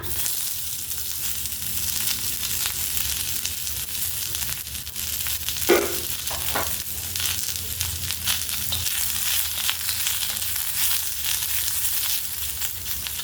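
Onion frying in oil for a Khandeshi black-masala dabuk vada curry gives a steady, close hiss and sizzle throughout, with one brief stir or scrape near the middle and no talking.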